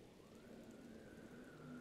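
Steady rain falls throughout a stormy scene in the video game The Legend of Zelda: Breath of the Wild, a soft, even hiss with a faint sustained tone running under it and no voices.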